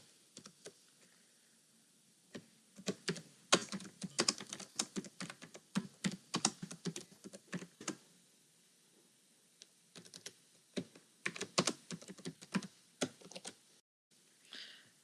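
Someone types code on a computer keyboard in quick close bursts of clicky keystrokes, broken by short pauses, quiet and alone.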